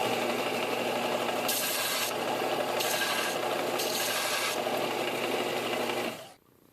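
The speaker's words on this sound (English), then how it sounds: "I think I'm going to grind the burr off the end of it." A grinder works the burr off the end of a metal stud, a steady loud rasping whine with pulsing brighter passes, cutting off abruptly at the end.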